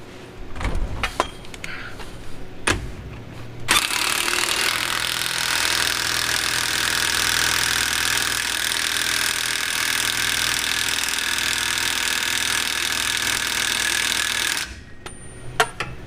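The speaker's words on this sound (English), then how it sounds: "We grab our impact and we torque it to all of it." An impact wrench torques bolts on a 1967 Buick, with a few short clicks and bursts before a long, steady whirring run of about eleven seconds, close and alone, ending abruptly.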